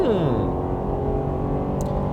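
A 2021 Jeep Grand Cherokee L engine at full throttle in auto mode, a steady loud drone with a rising tone early on, heard from inside the cabin.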